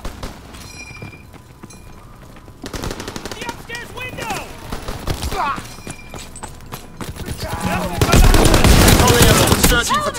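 Shotgun blasts and rapid gunfire in Call of Duty WW2 ring out close and loud, with scattered shots building to a dense, sustained barrage near the end while someone talks.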